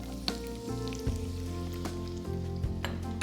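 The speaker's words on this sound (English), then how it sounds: "I'm going to deep fry this till they turn nice and golden brown" Sliced onions deep frying in hot oil for mutton dum biryani, a close, steady bubbling sizzle with a few light utensil knocks, no talking.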